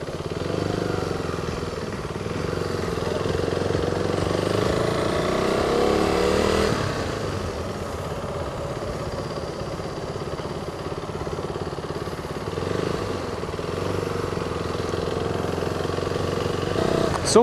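A KTM Duke 390 motorcycle engine drones steadily while being ridden at an event in Israel, a continuous mid-pitched hum with wind noise and slight rises in revs throughout.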